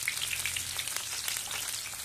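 Garlic and onion aromatics sautéing in a pan, a steady close crackling sizzle with faint popping, heard alone.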